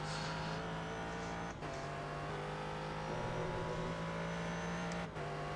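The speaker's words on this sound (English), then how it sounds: "Waiting for the Corvettes to come through." Corvette race cars in a racing video game rush past with a steady, fairly quiet engine drone, broken by two short dips where the sound briefly cuts out, with no talking.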